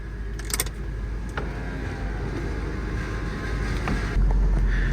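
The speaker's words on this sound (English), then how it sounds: "One of the things that was always the greatest about this car is how quick this electronic roof can go down." The electric convertible roof of a 2001 Porsche Boxster S with a 3.2-litre flat-six lowers with a steady motor whir and a few mechanical clicks, heard close up without talk.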